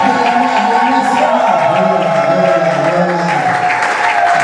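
Loud crowd applause at a conference in Kinshasa, steady and continuous, with strong tonal music or voices mixed underneath throughout.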